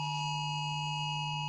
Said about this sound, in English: It sounds like one of them Amber Alerts or something